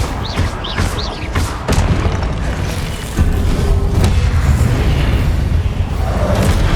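Repeated Incendio fire spells in Hogwarts Legacy combat, a string of loud booming bursts and thuds early on giving way to a sustained, heavier fiery roar, all dense and close.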